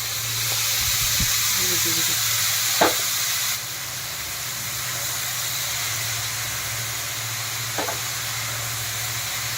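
Soft, steady sizzle of vegetables frying in olive oil beneath a low hum, with a couple of brief utensil clinks against the pan.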